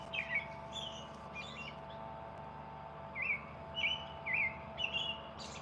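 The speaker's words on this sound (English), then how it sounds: "It's quite a bird." Small bird chirping in short, bright bursts, a few spaced calls, then several in quick succession, moderately near over a steady low hum.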